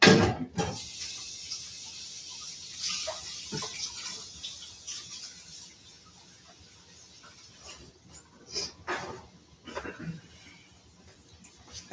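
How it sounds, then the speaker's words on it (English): Tap water runs into a sink while hands are washed in a home kitchen, with splashing and faucet noise, a cupboard clunk and intermittent handling sounds between quieter stretches. "I'm going to go wash my hands."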